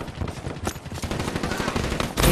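Rapid automatic gunfire from a Call of Duty: Black Ops III multiplayer match, a dense, continuous burst of shots with a heavier blast near the end, loud and steady with no talking.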